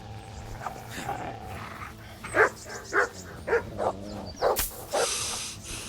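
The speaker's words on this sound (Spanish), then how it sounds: "Pero no te centres en el perro, tío." A dog barks in the medieval video game Kingdom Come: Deliverance, five or six sharp barks in a fairly steady rhythm, mid-distance, over a low background of game ambience and faint voices.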